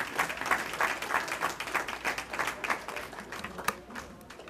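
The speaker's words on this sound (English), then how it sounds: "And I want to give them a round of applause." Audience at an awards ceremony claps, a moderate crowd applause with distinct individual claps pulsing throughout, fairly close and gradually thinning toward the end.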